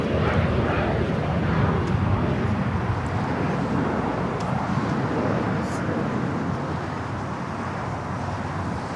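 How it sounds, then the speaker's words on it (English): A Frontier A320neo jet takes off from LAX, its engines a broad, steady roar that fills the whole stretch and eases slightly toward the end, heard from a distance outdoors with no talk. "It's a Frontier A320 Neo heading for a south-sided takeoff."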